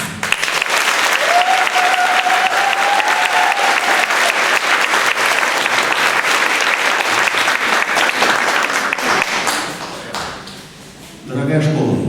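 Sustained ovation for a school's teaching staff at an anniversary concert, broad dense clapping from a large audience that holds steady for about ten seconds, dips, then swells briefly again, with some voices underneath.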